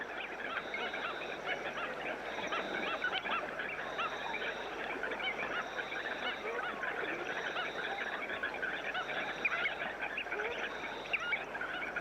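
A large flock of water hens calls continuously from shallow pools in dry outback country, a dense, steady chorus of overlapping clucks and honking notes, moderately distant and unbroken throughout.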